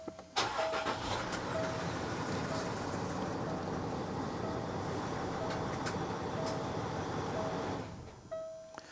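A car with about 114,000 miles cranks and fires up, then settles into a steady close idle that runs for several seconds before the sound drops away near the end.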